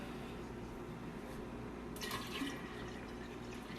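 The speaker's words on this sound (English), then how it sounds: "So to each one, I'll add 3 quarts of cool water." Cool water pours steadily into a vessel of sweet tea being prepared for kombucha, a soft continuous running stream with a brief brighter splash midway, faint and close.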